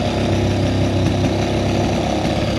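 An EME120 model aircraft engine with JMB Brecka canisters and headers, swinging a Mejzlik 2810 Evo prop, runs at a steady idle, giving a continuous, loud, throbbing low rumble with no change in pace.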